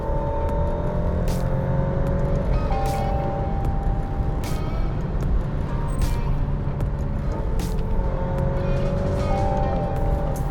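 A 2025 Alfa Romeo Stelvio Competizione with a small engine cruising on the highway in sport mode, a steady cabin hum of engine and road noise with slight pitch shifts as the revs change.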